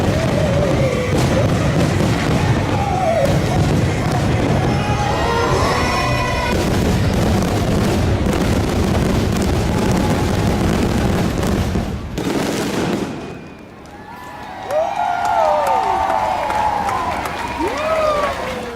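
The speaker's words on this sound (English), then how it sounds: "Look at some of these fireworks." Fireworks go off at Disney's Beast Castle, seen from behind Cinderella's castle. Booms and crackles run on and off for the whole stretch under crowd noise and scattered cheering, with a short lull, and people talk throughout.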